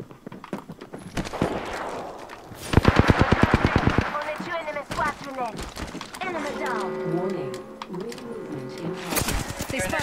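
Rapid bursts of automatic gunfire aimed at the player in a multiplayer shooter video game, loud rattling volleys with a few single shots, while players talk to each other throughout.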